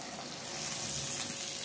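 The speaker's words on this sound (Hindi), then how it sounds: "सब्जियाँ फ्राई ज़्यादा नहीं होनी है और इसमें हम लोग पानी डाल देंगे।" Water is poured into a pan of frying vegetables for Bengali shukto, giving a steady rushing hiss that holds evenly for under two seconds with no talking.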